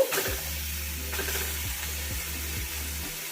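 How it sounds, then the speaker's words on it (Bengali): Washed, chopped flat beans drop into softened tomatoes in a hot pan with a sharp burst, followed by a steady close sizzle and occasional stirring scrapes, with no voices. "এখন আমি এর মধ্যে ধুয়ে কেটে রাখা শিমটা দিয়ে দেব"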